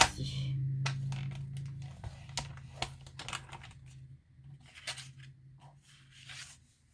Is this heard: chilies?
no